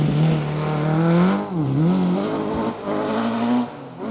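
A rally car on a forest stage at the Malcolm Wilson Rally 2025 revs hard, its engine note rising and dipping through gear changes and throttle lifts, loud and close with no talking over it.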